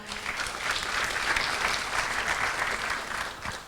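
Sustained applause from an audience at the Ekolaury 2014 environmental award ceremony, steady and even throughout with no voices over it.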